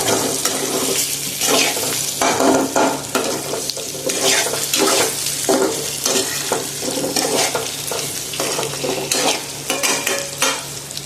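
Onion and potato frying in oil, a loud close sizzle broken by repeated scraping stirs of a spoon in the pan, continuous with no talking.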